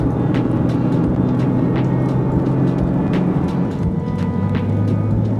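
A Nissan 370Z NISMO drives onto an expressway, its engine and road noise a loud, steady low drone from inside the cabin, with faint ticking clicks over it and no talk.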